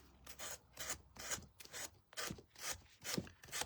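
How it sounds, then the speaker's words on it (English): Sandpaper rubs a wooden anchor wall hanging by hand in repeated downward strokes, about eight rhythmic rasping passes with short gaps between them, close and quiet with no talking. "I want to just sand in a downward motion only"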